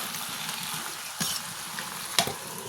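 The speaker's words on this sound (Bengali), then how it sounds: "এখানে সবগুলো মাছ, সব তরকারি সুন্দর করে কষিয়ে নেব ভালো করে" Fish and mixed vegetables sauté in a pan, a constant close sizzle with a couple of brief scrapes from stirring.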